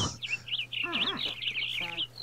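A bird call from an ostrich in modded Minecraft, several quick chirping, warbling notes repeated over a couple of seconds with a low steady hum underneath.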